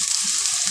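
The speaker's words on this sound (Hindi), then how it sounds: "एक से 2 मिनट तक प्याज को फ्राई करेंगे" Onions and green chillies frying in oil, a brief bright continuous sizzle heard close and steady with no talking.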